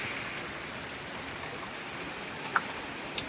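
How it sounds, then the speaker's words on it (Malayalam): Heavy rain falls outside as a steady, dense hiss of drops with a few louder drips near the end, no voices present. "പുറത്ത് നല്ല മഴ."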